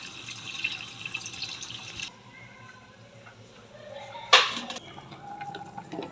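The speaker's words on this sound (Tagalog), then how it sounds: "So, magdagdag pa tayo ng tubig para initin natin ang sabaw." Water pours from a tap into a pot of chicken soup, a steady splashing stream that stops abruptly, followed by a brief louder clank of cookware and soft kitchen noises.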